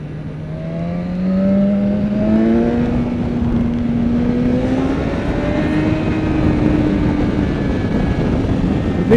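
BMW S1000XR motorcycle accelerating hard through the gears with a quick shifter, the engine note climbing steadily and rising again after each shift, loud and close, with no talking.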